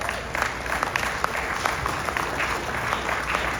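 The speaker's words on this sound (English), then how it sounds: "give your leadership a round of applause." A roomful of diners at an annual awards dinner applaud at moderate volume, a steady patter of many hands with a few sharper individual claps standing out.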